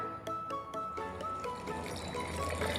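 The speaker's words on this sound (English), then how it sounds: "We add some water." Water pours in a steady trickling stream, close and moderately loud, with a few light clinks at the start.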